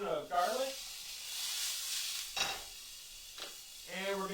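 Garlic fries in a pan with a soft steady sizzle and hiss, while a person talks at the start and end.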